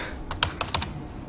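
Keystrokes on a computer keyboard, a quick cluster of five or six close, crisp clicks over a low background hiss, with no talking.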